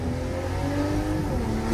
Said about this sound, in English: This is a B58 engine, guys.